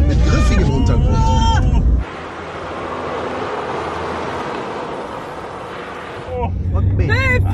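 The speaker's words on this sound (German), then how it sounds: "Wir sollen jetzt im Kreis fahren und immer schneller werden" A car on a driving-safety training ground, circling faster and faster, a rushing roar of tyre and wind noise in the middle stretch, with people talking inside the car before and after.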